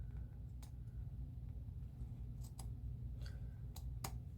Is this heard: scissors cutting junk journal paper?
yes